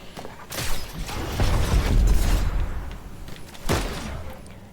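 Bursts of video game gunfire rattle during a battle event, with dense clustered shots and a sharp loud crack toward the end, fairly loud and with no talking.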